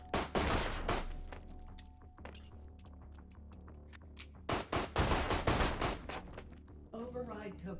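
Rapid gunfire in the VR shooter H3VR, with bursts of sharp close shots and a quicker volley late on, all over loud game ambience and someone talking.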